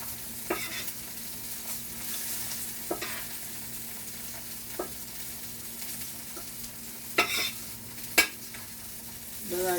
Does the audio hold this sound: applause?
no